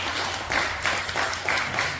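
Brief applause from a church congregation at a year-end worship gathering, a moderate burst of clapping rising and falling over a soft room hum.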